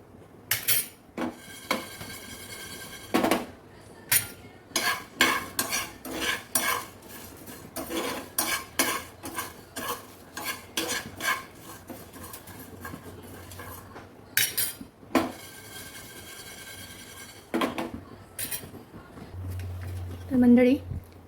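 Garam masala spices and sesame seeds roast in a pan, a metal spoon stirring and scraping in frequent, uneven clinks against the cookware, close and fairly loud, with someone talking over it.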